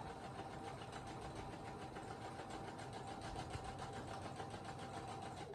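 A sewing machine stitching fabric for reusable kitchen towels runs steadily in a fast, even rhythmic whir, faint and continuous, with no talking.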